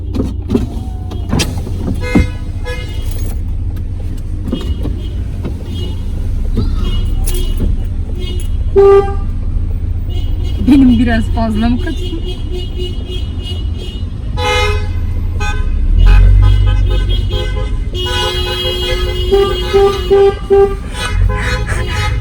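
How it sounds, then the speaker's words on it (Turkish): A car horn that sounds somewhat odd toots a few times near a running car, with people talking in between and power windows whirring. "Şu kornaya basar mısınız?"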